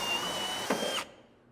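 A power drill bores a hole for forged half-inch eye bolts, a loud steady whine that holds for about a second, shifts pitch briefly near the end, then cuts off abruptly into quiet room tone.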